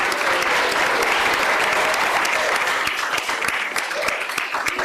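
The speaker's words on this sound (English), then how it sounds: "Can we give a big round of applause for the Earth?" A crowd at an Earth Week keynote event applauds loudly and continuously, with a faint murmur of voices beneath the clapping.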